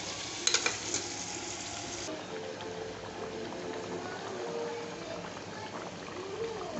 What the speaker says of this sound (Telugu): బాయిల్ అవుతుంది మంచిగా.